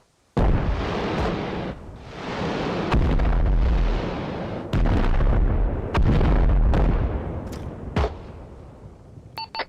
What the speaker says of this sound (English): Also have someone shooting grenade launchers to the east of Chuka